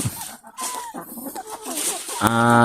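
Free-range backyard chickens cluck in short bursts through the clip, with a louder, harmonic call rising near the end.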